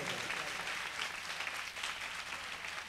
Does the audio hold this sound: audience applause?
yes